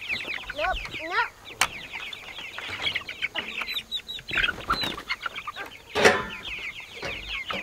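Chickens clucking and squawking in a coop, several birds close by with irregular bursts of cackling calls and some wing flapping, no talk.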